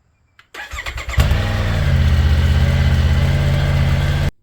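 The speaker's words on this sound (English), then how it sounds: "The first thing you need to do is warm up the bike." A Triumph Tiger 900 motorcycle engine cranks briefly, catches and settles into a loud, steady idle that holds close by for several seconds.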